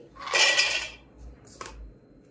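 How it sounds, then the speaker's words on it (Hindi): Cashews poured into a steel mixer grinder jar make a loud rattling clatter for about half a second, followed by a shorter, fainter second patter of nuts hitting metal. "अब हम मिक्सी के जार में काजू ऐड कर देंगे।"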